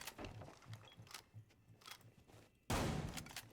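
Rapid bursts of gunfire from a competitive Rainbow Six Siege match, a steady stream of shots that turns into a louder, denser volley near the end.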